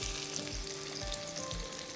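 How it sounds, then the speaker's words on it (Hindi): Onions frying on high heat in ghee or oil, a dense close sizzle with rhythmic stirring strokes roughly every half second. "ये गया जी प्याज, high heat and let's fry them."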